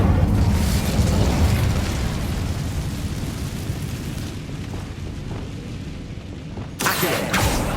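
A fiery Incendio spell blast in Hogwarts Legacy, a loud rumbling whoosh of flame that slowly fades, then a sharp burst of crackling impact near the end.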